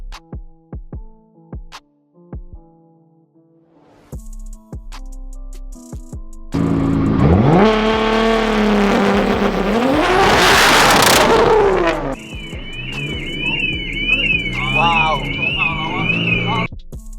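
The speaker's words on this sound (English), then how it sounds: "We're going to be testing some launch control" A Nissan GTR running a launch control test, its engine revving hard and loud for several seconds with rising and falling pitch, then settling into a steadier high drone accompanied by a whining tone, with brief knocks before it starts.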